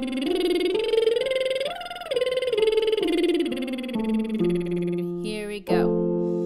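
A single voice does a lip trill vocal exercise, a buzzing, fluttering-lips tone whose pitch glides up and down in a few connected phrases and ends with a brief breathy release.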